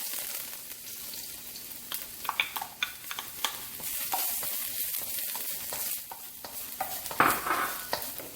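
Garlic sizzles in vegetable oil in a very hot wok, a continuous crackling hiss broken by scattered scraping stirs and clinks, up close with no voices.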